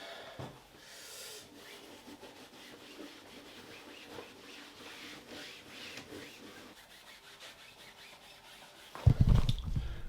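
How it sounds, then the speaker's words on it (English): Bike tyre rubbed down with white spirit on a cloth, a faint continuous scrubbing and rubbing texture, followed by a louder thump and handling noise at the end. "Bit of white spirit, and then we just rub round the tyre."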